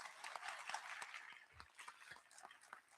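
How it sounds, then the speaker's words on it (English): An audience at a school board meeting applauds with faint, steady clapping for about three seconds, heard from some distance in a large room. "You can clap."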